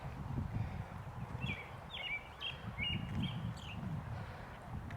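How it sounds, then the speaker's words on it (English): Small birds chirp in a front yard garden of daylilies, salvia and black-eyed Susans in April, a string of short, thin calls repeating every half second or so, moderately distant over a steady low outdoor rumble. "I love the birds."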